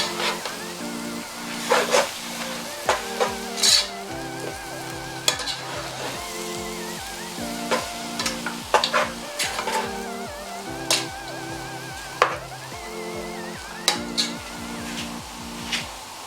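Vegetable soup ingredients stirred in a pot for Nigerian green vegetable soup, with soft simmering hiss and regular sharp knocks and scrapes of a spoon against the pot over a steady background hum.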